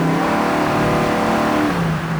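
Buick muscle car engine with a TH400 automatic transmission running close by, a loud steady mid-pitched drone that rises slightly as power is applied, with no talk over it.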